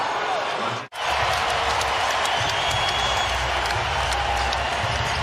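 A sellout crowd in a basketball arena during an NBA playoff game roars and cheers loudly and continuously after a brief dip near the start, with sneaker squeaks and thumps mixed in.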